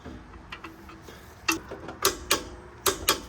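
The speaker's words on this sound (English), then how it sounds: "Got my torque wrench, set 76 foot-pounds." A torque wrench clicks and ratchets on a caliper bracket bolt on a Lexus GX rear brake, a series of short sharp mechanical ticks close by, spaced irregularly and ending in a few louder clicks.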